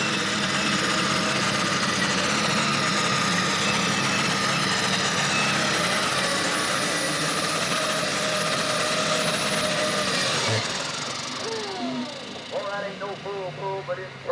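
An alcohol-burning pulling tractor roars loud and steady at a 1995 Shepardsville, Kentucky tractor pull, then drops off near the end as an announcer talks over it.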